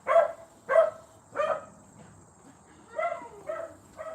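Several dogs next door barking in a residential neighborhood, a run of about six sharp barks and yips at uneven intervals, moderately close and clear, with no talking over them.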